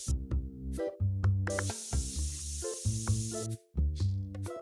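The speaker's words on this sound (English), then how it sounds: "And we'll spray these people as they come in." Spray can hissing at customers in TCG Card Shop Simulator, a bright airy spray running under loud tonal game music. It swells across most of the stretch with brief breaks, and no one speaks.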